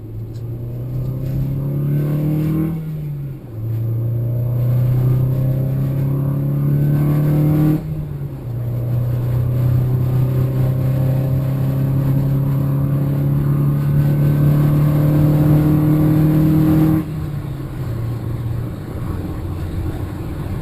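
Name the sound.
Harley motorcycle accelerating up to speed on the interstate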